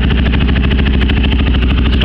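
Yamaha Raptor ATV with an HMF slip-on exhaust idling after start-up, a loud, steady, close mid-pitched engine chug with rapid even pulses and no revving.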